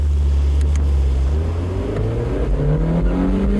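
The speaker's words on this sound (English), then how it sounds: "You'll notice initially it's going to be sluggish, and then when the turbo kicks in," A 1988 Saab turbo car accelerates hard from 0 to 100 km/h, its engine note climbing steadily in a loud, close, continuous roar heard from inside the car.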